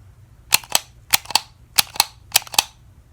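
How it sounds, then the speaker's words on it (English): Sharp clicks for a cranial nerve hearing test, delivered as close, crisp paired snaps repeated in an even rhythm, about eight in three seconds, against near silence. "Now you're just gonna close your eyes and tell me how many clicks you hear."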